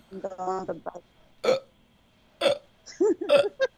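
A voice imitates a hiccup, several short throaty hic bursts spaced apart, with brief speech at the start.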